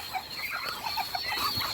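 Farm ducks calling in a small flock, a steady run of nasal quacks and chatter close by, overlapping without pause.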